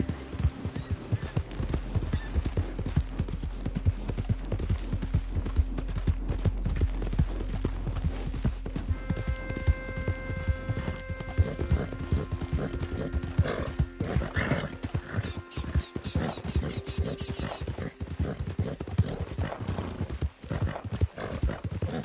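Horse galloping in a PS4 video game, a steady rapid clip-clop of hooves running throughout with a couple of neighs and whinnies, loud and close, over a continuous game soundtrack with sustained tones.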